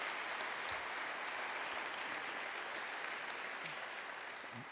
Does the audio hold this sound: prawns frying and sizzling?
no